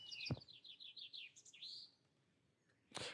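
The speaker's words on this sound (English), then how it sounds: "the bird's cries for help went unheeded, now weak with exhaustion" A baby bird in a video game gives a quick run of high, thin chirps that fade out, framed by a sharp click at the start and another at the end.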